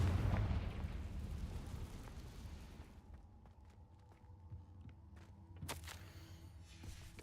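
Confringo fire spell exploding in the Hogwarts Legacy video game: a loud fiery blast opens, rumbling and decaying over several seconds, followed by a sharp crackling burst near the end.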